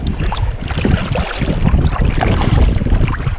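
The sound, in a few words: wind and waves while kayaking on Bala Lake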